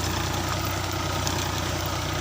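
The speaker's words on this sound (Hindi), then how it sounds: "सर ये पंहिंजो ट्रैक्टर हले पियो" Tractor engine running in a field in Pakistan while working with a seed drill, a steady, loud, low mechanical drone with an even rumble and no pauses, with no voices.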